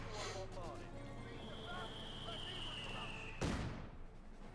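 Mortar fire and shell explosions in the strategy game Company of Heroes 2: distant rumbling battle noise with a sharp, heavy impact boom near the end.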